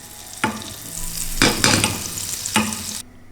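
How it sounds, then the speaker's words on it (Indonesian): Butter heating in a pan gives a steady close sizzle. Three louder bursts of frying and stirring rise out of it before it cuts off abruptly. "Panaskan 1 sendok butter"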